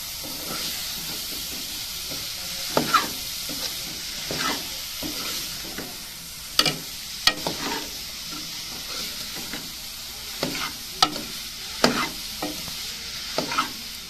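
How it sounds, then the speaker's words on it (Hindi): Radish masala hisses and sizzles in a pan over a fire while a utensil stirs it, giving scrapes and sharp clacks at irregular intervals against a constant frying hiss, close up with no talk. "अब इसको हम अच्छी तरह से मिक्स करेंगे।"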